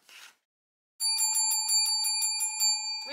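A small bell rings rapidly and brightly up close, about eight quick metallic strikes with sustained tones, after a brief soft rustle and a moment of silence.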